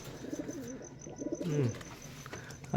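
Giribaz pigeons, a newly paired cock and hen, coo in low, rolling bursts close by, with a couple of repeated throaty phrases and faint background noise.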